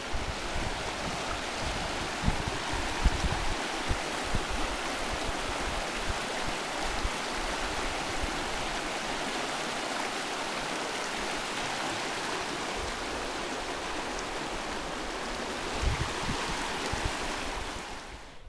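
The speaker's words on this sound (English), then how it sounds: "Here's the stream." Water of a stream flowing at McGee Creek near a cove, a soft, continuous rushing wash holding steady for about eighteen seconds before fading at the end, with no talking.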